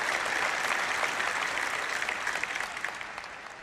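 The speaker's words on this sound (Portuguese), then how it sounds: "dê ao Senhor uma salva de palmas" Congregation in a church applauding the Lord, a dense wash of many hands clapping together that holds steady, then gradually fades toward the end, with no voices over it.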